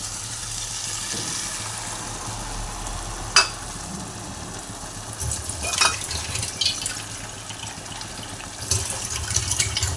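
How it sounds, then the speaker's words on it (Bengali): Water poured into a cooking pot of sautéed curry, a steady splashing pour with a couple of sharp clinks from the vessel, close and fairly soft. "এবার আমি জল ঢেলে দেবো।"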